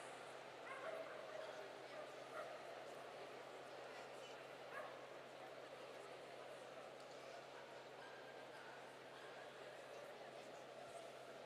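English Springer Spaniels at a large indoor dog show give faint, scattered yips and barks, mostly buried under a steady crowd and arena murmur.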